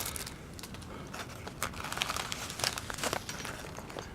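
Plastic packaging crinkles and crackles as items are pulled from a small first aid kit, close and fairly quiet with irregular bursts of rustling.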